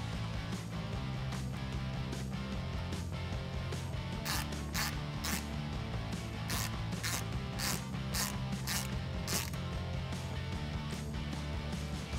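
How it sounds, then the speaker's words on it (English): A T15 Torx bit drives Torx bolts while mounting fender flares on a 2019-2022 Chevrolet Silverado 1500, giving a series of quick ratcheting clicks in short bursts over a constant loud background hum. "Grab your T15 Torx bit and start tightening it down."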